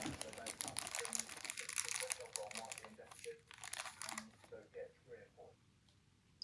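A plastic bag crinkles and rustles up close in irregular bursts as rubber pinch rollers for a Technics RS-TR373 cassette deck are pulled out, with someone talking over it and quieter moments toward the end.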